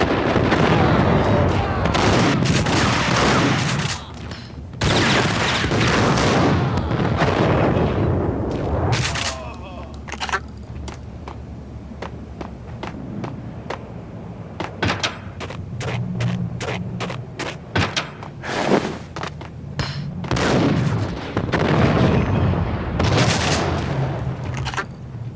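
Cutscene gunfire in the Max Payne shooter, with loud booming shots in bursts and scattered single cracks between stretches of voices speaking.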